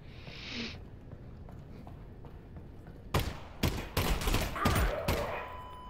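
Gunfire in the video game Half-Life: Alyx, a tight cluster of loud sharp shots arriving together after a quieter stretch of low game ambience, with one brief high hiss near the start.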